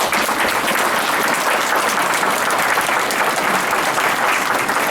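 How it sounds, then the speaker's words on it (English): A large crowd gives loud, dense, sustained applause for recent graduates at a Naval Submarine School graduation ceremony in Groton, Connecticut. The clapping stays even and continuous throughout, with no voices rising above it. "round of applause for our recent graduates"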